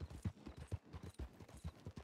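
A horse in the Red Dead Redemption 2 video game trots along, its hooves clip-clopping in a quick, steady rhythm, faint and unaccompanied by talk.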